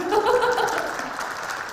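Audience clapping during an Atomy product introduction, a short burst of applause mixed with some light laughter and a voice over it, fading after the first second.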